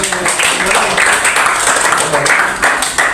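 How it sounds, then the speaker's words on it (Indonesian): Students in a classroom clap together during a biology lesson, a loud continuous patter of hands with voices mixed in. "Ya, itu tepuk tangan"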